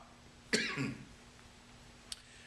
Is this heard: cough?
yes